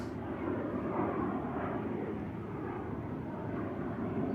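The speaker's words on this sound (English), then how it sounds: "Singapore Airlines Airbus A350 next to go. He's just lining up on runway 23 left." A Singapore Airlines Airbus A350 lining up on runway 23 left at Manchester Airport gives off a steady, distant jet engine roar that holds at an even level without talk.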